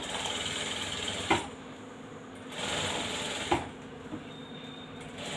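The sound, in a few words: sewing machine stitching blouse piping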